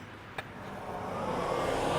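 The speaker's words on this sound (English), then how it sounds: "So yeah, the cars do come from the left." Car passing on a road near a zebra crossing, on the walk to Disneyland Paris from the offsite hotels; a steady engine and tyre rush swells slowly as the car draws near, with no talk.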